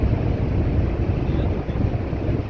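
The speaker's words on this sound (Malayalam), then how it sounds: "ടഗ് ബോട്ട് ഉണ്ട് കേട്ടോ" A tug boat works near a ship in a port, producing a steady, low engine rumble that is heavily buffeted by wind noise on the microphone.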